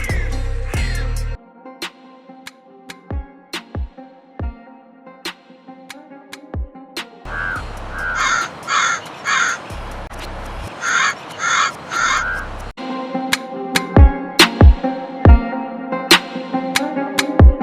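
Repeated harsh crow caws ring out close by in quick bursts, several calls in a row, with sharp clicks and taps scattered between them.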